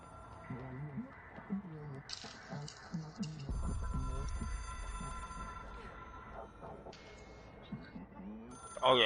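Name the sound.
telephone ringing in video game Control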